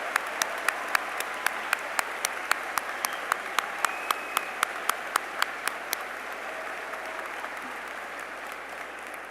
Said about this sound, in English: please give them a round of applause for their devotion, support, and love over these 18 years